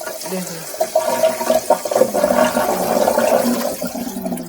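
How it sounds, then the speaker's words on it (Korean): Water from a filled kitchen sink rushes and gurgles steadily down the drain after a clog is cleared, a continuous swirling flow that fills the whole stretch, with faint background voices. "물을 제가 한번 가득 받아보고 한번 내려볼게요"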